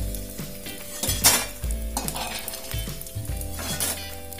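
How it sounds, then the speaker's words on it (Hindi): Edible gum (gond) for laddus frying in hot oil in a pan, a steady close sizzle with repeated scraping and clinking of a stirring spoon against the pan throughout. "चलाते हुए फ्राई करना है।"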